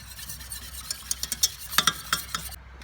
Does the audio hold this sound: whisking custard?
yes